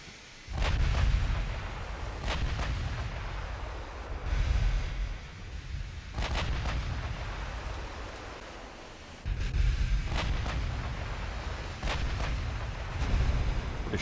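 Battleship guns fire in a naval combat video game, with deep booming salvos recurring every few seconds over a continuous low roar, each blast starting with a sharp crack and then rumbling on.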